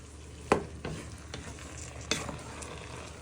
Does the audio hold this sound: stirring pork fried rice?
yes